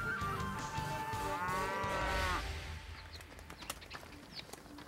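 Dairy cows low with long, drawn-out moos at a large modern ranch holding tens of thousands of cattle, fairly loud and close, with faint bird chirps afterward.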